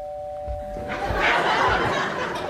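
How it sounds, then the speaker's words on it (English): A bowed doorbell-like tone rings out, a sustained pitched note that then fades under a burst of soft laughter and rustling from people nearby. "I'll do a sort of doorbell noise, using a bow, in fact."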